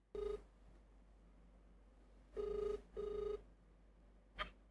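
A telephone rings on a call being placed to victims of a case, with three ring bursts: one near the start, then two close together after a pause, ending in a brief click. No one speaks over it.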